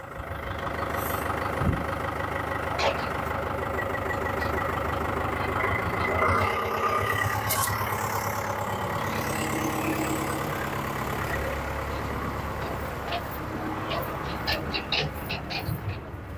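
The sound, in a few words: tractor running feed mixer via PTO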